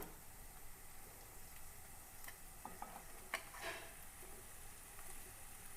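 Beef frying in a pan with ginger, garlic and onion, giving a low, steady sizzle with a few sharp clinks and stirring scrapes midway, quiet and close.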